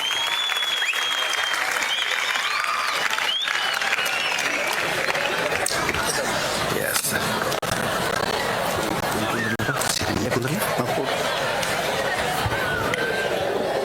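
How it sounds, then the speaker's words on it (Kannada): An audience at the Koppal jatre 2025 fair applauds loudly after a late-night speech: dense, continuous clapping with crowd chatter mixed in, filling the whole stretch. "ಜೋರಾದ ಚಪ್ಪಾಳೆಯೊಂದಿಗೆ ಧನ್ಯವಾದಗಳನ್ನು ಹೇಳ್ತಾ"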